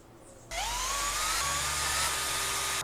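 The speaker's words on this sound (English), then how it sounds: "So I drill the holes both to keep the wood from splitting" A power drill spins up suddenly and whines steadily as it bores pilot holes into wood, its pitch shifting slightly as the bit cuts.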